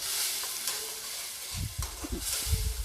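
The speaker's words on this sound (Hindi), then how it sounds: "जब तक मसालों से तेल छूटना शुरू ना हो जाए तब तक मैं इसे भूनूंगी।" Spice masala fries in oil in a pan for restaurant-style bhindi do pyaza, a close, steady sizzle broken by scraping stirring strokes in the second half.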